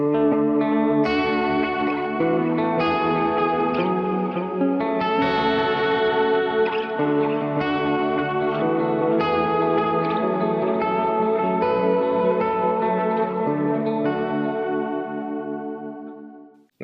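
Electric guitar played through a Julia chorus pedal, sustained chords shimmering with a thick, warbling chorus wash and distortion, loud and continuous before fading out at the end.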